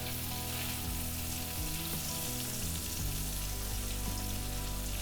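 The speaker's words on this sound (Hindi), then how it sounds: "अब धीमी आंच में पनीर को भुनने देंगे।" Paneer pieces fry in butter in a pan over a low flame, giving a steady, close crackling sizzle that carries on evenly throughout with no talking.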